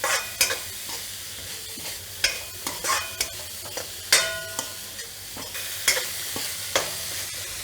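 Finely chopped vegetables for Manchurian frying in a pan while being stirred, a steady sizzle broken by a dozen sharp scraping and clinking strokes at an uneven rhythm, close and fairly loud, with no voices.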